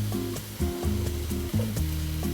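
Zucchini and shaved corn kernels sizzle in a hot pan with garlic, a close, continuous frying hiss under a steady low hum, with a couple of brief shifts as the vegetables settle.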